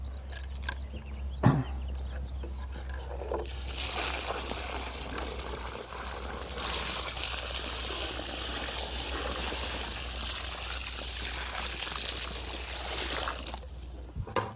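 Water is poured steadily into a deep, freshly dug tree planting hole about three feet wide, making a continuous close splashing gush for about ten seconds over a low hum before trickling off.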